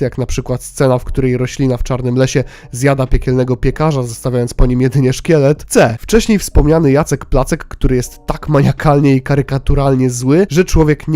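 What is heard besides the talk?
None of the usual background noises is heard.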